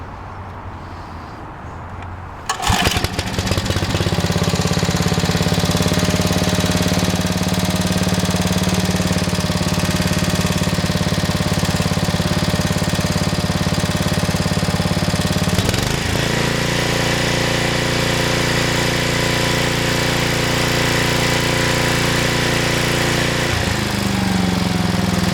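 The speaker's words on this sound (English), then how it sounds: "We'll pull start it and then I'll electric start it and show you how it runs." A Briggs & Stratton 8HP Industrial Plus engine on a Troy-Bilt Horse PTO tiller catches after a pull start, then runs loud and steady with a rough, knocking idle and a brief dip in speed partway through.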